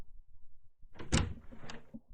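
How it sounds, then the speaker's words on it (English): A door opens in the Chaos;Child video game with a single sharp burst and a sliding swish that trails off after about a second, following a few faint low thumps. "the sound of the door opening cut her off"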